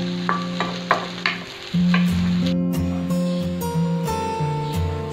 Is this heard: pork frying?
yes